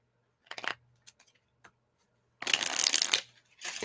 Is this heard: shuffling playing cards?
yes